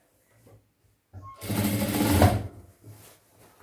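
A sewing machine stitches pant fabric in a tailoring lesson, with a brief mechanical rattle, one loud whirring run of about a second, and a few soft clicks of handling and adjustment before and after.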